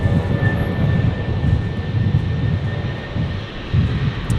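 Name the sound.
Jetstar A320 airliner taxiing at Brisbane airport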